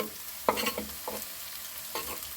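Frozen peppers and garlic added to caramelized onions and carrots in a pan, with a faint, low sizzle under a few sharp scraping knocks of a utensil stirring the vegetables.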